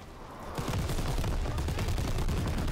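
Turret gunfire in the World War II shooter Call of Duty WWII, a fast loud machine-gun stream that rattles steadily after a brief lead-in, with no talk over it.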